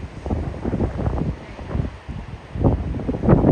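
Strong wind buffets the microphone on a rocky coastal shore, a close, gusty roar rising and falling in bursts with low rumbling thuds.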